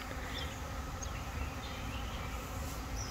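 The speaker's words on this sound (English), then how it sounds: "there are bees like flying around me right now" Steady, close buzzing drone of honey bees flying around, a continuous swarm hum with no pauses.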